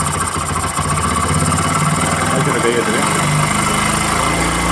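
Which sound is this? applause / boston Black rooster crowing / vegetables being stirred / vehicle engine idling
vehicle engine idling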